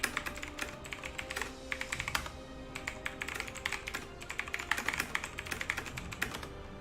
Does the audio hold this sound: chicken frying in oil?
no